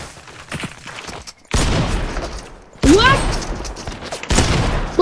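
Sustained gunfire and explosive bursts from a battle video game, loud and continuous with sharp cracks and booms, while players talk over the action.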